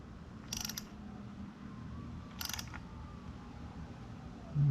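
A socket wrench is turned on a fastener during a car oil change, giving two short bursts of quick ratcheting clicks up close against a quiet background.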